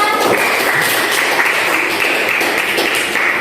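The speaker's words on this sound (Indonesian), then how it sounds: "Oke, tepuk tangan untuk kelompok 3" Classroom students clapping for a group that has just presented its poster, continuous moderately loud applause with scattered sharper taps lasting the whole stretch.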